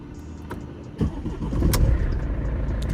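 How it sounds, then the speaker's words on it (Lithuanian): A Mercedes engine cranks and catches after a repaired steering lock fault, the starter burst giving way to a steady running idle close by, with no talking. "Volia, automobilis užsikūrė ir jau galima jį eksploatuoti."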